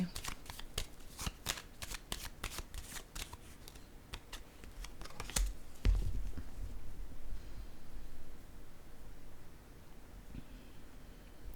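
Tarot cards handled at a table during a reading, with a run of quick papery shuffling flicks, then one firmer tap as a card is laid down, followed by quieter rustling.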